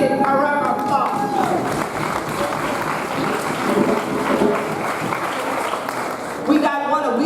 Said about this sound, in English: Give she a round of applause